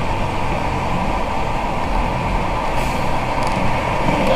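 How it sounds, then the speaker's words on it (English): A truck idles loudly nearby with a steady low rumble; a short hiss of air released from the air brakes cuts through near the end. "That expels some of the air in the line."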